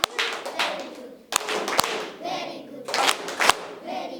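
A class of schoolchildren at a government school clap in unison in a patterned 'good' rhythm, with quick sharp hand claps and a few louder accents over a murmur of young voices.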